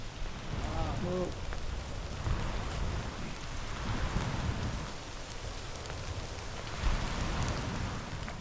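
Rain comes down steadily on a tropical island shore near Coconut Bay during a sailing kayak trip, a constant dense hiss with a low rumbling undertone and a few faint tonal sounds early on.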